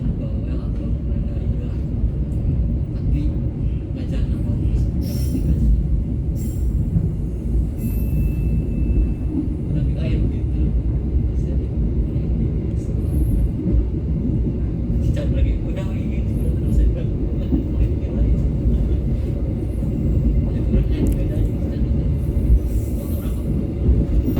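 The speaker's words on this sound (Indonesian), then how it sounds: "Kereta api Pasundan tiba di stasiun Maus 2 menit lebih awal." A Pasundan economy train rumbles steadily into the station, close and loud, with continuous wheel and rail noise and occasional faint squeals and clanks throughout.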